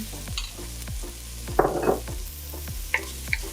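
Minced garlic and green seasoning frying in a pan, a soft steady sizzle with repeated stirring scrapes and a brief burst of louder spattering midway, close and alone without talk.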